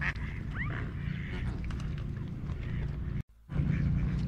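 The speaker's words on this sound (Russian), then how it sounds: "Здесь обитают не только лебеди, утки" Ducks quack and geese or swans honk on a park pond, several calls overlapping in a busy outdoor din with a brief cut near the end.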